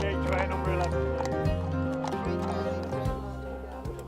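Racehorses thunder past in Britain's oldest horse race, run across four miles of Yorkshire Wolds countryside, with loud hoofbeats and a dense crowd roar and commentary-like voices over the top.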